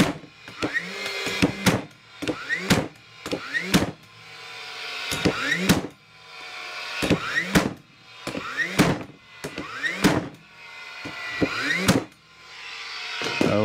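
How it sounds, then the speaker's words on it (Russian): DeWalt cordless nail gun driving ten nails into wood, each shot a sharp bang followed by a whirring wind-up, repeating in a steady rhythm close by, loud and with no voices. "Вот сейчас я забил 10 гвоздей нейлером DeWalt."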